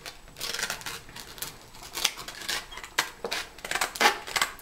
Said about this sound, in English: I'm just going to use my kitchen shears and cut a rectangle